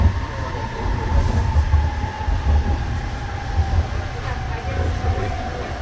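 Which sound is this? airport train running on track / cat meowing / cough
airport train running on track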